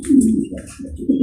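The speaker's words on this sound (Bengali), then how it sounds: "এটা হচ্ছে ইউরোপিয়ান স্ট্যান্ডার্ড মডার্না কবুতর" A male European-standard Modena pigeon, red-winged, coos in deep, throaty phrases up close, two rolling bursts separated by a short pause, with no one speaking.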